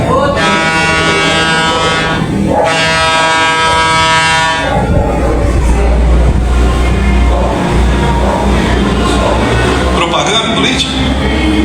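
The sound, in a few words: train passing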